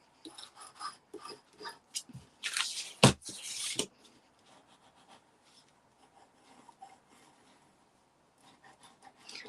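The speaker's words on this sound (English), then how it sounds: "I'm just going to go over that with my bone folder to get some good coverage" A bone folder rubs over embossed paper in a card-making craft, giving soft scraping strokes that build to a loud rasping burst midway, then fade to faint intermittent rubbing, with no talk.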